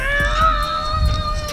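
A person imitates a cat's meow: a single drawn-out, tonal, nasal mewing voice, close and fairly loud, held steady for about a second and a half.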